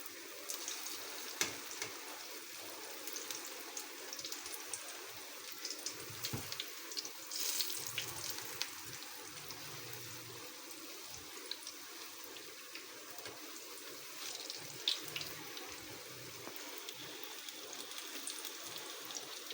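Coated potato vada (patata barah) fry in hot oil, giving a steady, fairly soft hiss and crackle that runs unbroken throughout with small pops and no voices.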